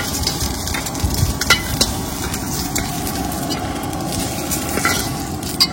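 Loud, continuous sizzling of eggs frying in hot oil, with scraping and stirring sounds throughout and no talking.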